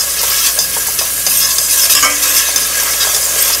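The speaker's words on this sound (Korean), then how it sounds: "불 켜고 마늘을 볶아야 됩니다." Garlic frying in a hot pan for a vongole clam pasta, a steady loud sizzle with spatula stirring throughout, no voices.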